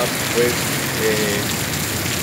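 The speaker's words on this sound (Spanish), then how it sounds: "cae una gran tormenta" Steady heavy rain from a big nighttime thunderstorm pours down over a city in Posadas, Argentina, in a dense, continuous hiss, with a voice murmuring faintly beneath it.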